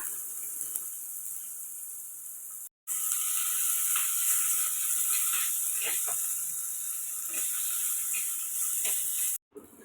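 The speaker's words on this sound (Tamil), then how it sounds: "நம்ம பொடி பொடியாக கட் பண்ணி வச்சுருக்கோம் ஆனியனை சேர்த்துக்கலாம்" Finely chopped onion fries in oil in a clay pot for fish gravy, giving a close, steady high hiss with light crackles and clicks, broken by two short silent cuts.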